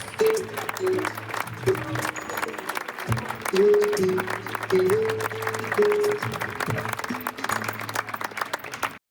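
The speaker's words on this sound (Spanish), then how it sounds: "Un fuerte aplauso, por favor, para Revoltosa LC y Adrián Redondo López." Spectators applaud a horse and rider at an Arabian horse exhibition of doma vaquera and classical dressage, a steady spread of clapping running beneath music throughout.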